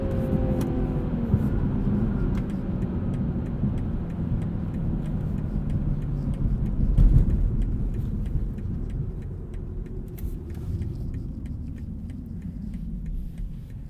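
A 2020 BMW M340i xDrive produces a steady, loud engine rumble while driving, swelling briefly midway and then settling back to an even drone, with no talk.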